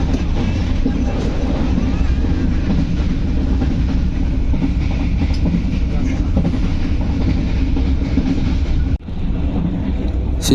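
Inside the crowded Bengawan passenger train in Java, a loud continuous rumble and rattle of the carriage rolls on with steady rail noise, briefly dipping near the end.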